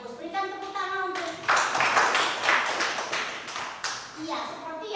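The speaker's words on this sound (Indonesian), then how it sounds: "Berikan tepuk tangan untuk." Classroom applause for a student's answer, a burst of many hands clapping that lasts about three seconds, framed by a teacher's voice speaking before and after.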